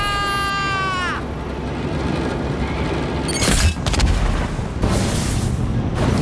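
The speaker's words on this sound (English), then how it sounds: "I want to get in the cannon." A cannon fires in a video game, with a loud booming blast and rumbling after a rising tonal whine fades out, followed by further sharp bursts and a sustained roar.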